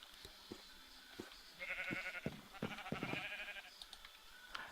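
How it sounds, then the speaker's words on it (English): Sheep roaming in a video game bleat a few times over a faint background of clicks and taps, fairly quiet and close. "Looks like they got a bunch of sheep just roaming around too."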